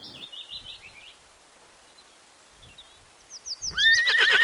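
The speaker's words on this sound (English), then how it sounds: "H for horse." A horse whinnies loudly near the end, a rising, wavering neigh after a quieter opening with faint high tonal calls and near silence in the middle.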